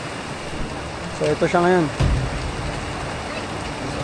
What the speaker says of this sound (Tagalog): during setup, biglang bumuhos yung ulan